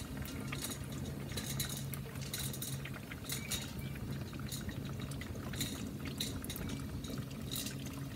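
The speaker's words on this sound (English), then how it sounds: "And you may be able to hear the boiler." A boiler heated over a wood fire bubbles and hisses while rendering beeswax from old brood comb, a steady low rumble with intermittent louder gurgling bursts and no talking.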